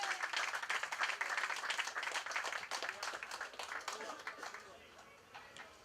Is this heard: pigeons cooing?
no